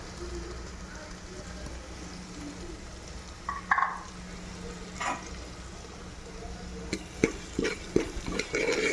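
Chicken masala with fenugreek leaves sizzles gently in a pan on low heat, with a quiet continuous crackle and scattered scrapes and clinks of a spoon stirring, while a person talks.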